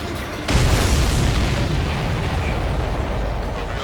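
An exploding supply ship in the Ace Combat 7 video game: a sudden loud boom that settles into a sustained rumbling roar lasting several seconds, with no voices.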